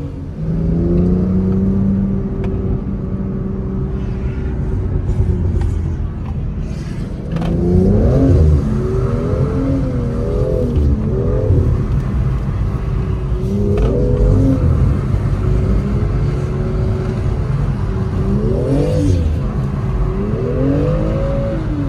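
A car engine revved by a driver working the throttle: a steady idle for several seconds, then repeated loud, close rising and falling revs that keep going to the end, with no voices.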